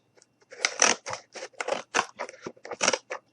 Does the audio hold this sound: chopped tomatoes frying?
no